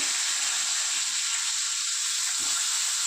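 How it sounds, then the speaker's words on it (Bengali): Fish frying in hot oil in a home kitchen, a loud steady bright sizzle and hiss throughout with a brief soft clunk partway in, no voices. "তেলটা গরম হয়ে গিয়েছে এবার আমি মাছটা ঢেলে দিচ্ছি ভাজার জন্য"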